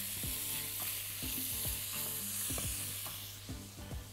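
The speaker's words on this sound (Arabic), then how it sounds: "ننزل باللحمه الاول، الزيت يكون سخن" Meat sizzling in hot oil in a pan, a steady close frying hiss with repeated stirring knocks and scrapes.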